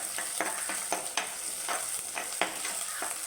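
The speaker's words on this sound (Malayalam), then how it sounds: "ഇളക്കി കൊടുക്കാം." Fenugreek seeds, ginger and long-cut garlic stirred in hot oil in a pan for a Kottayam-style fish curry, with a continuous bright sizzle and quick repeated spatula scrapes, close and without speech.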